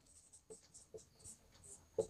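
Chalk or marker writing on a board while a Hindi math lesson works through a brick-count problem, faint scratchy strokes tapping in a loose rhythm, with a slightly firmer tap at the end.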